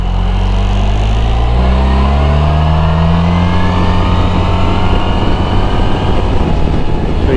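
A Suzuki Burgman 650 Executive scooter accelerates in power mode at half throttle, its engine drone rising and holding high revs in a loud, steady roar with wind noise, heard from the rider's position.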